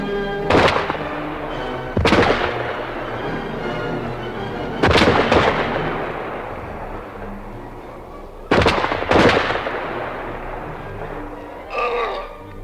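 Gunshots in a dramatized radio play of The Invisible Man ring out as four loud, booming blasts spaced a few seconds apart, each trailing off into a long echoing decay, with a short thud near the end.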